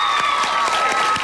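Studio audience on a 1993 French-language Quebec talk show applauds a guest, steady dense clapping with a few cheers, loud and continuous throughout the short burst with no talk over it.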